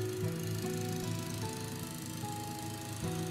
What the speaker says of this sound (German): Der Rasenmäher fährt über das Fußballfeld.